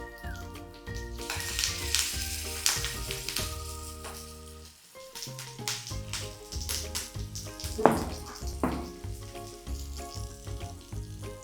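Salmon fish sizzles as it fries in oil with curry leaves on a tawa, a steady crackling fry that swells and settles, heard mostly alone with background tones.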